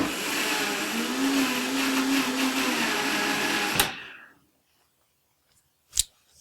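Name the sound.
miniature Vitamix blender pre-blending chocolate quinoa cake batter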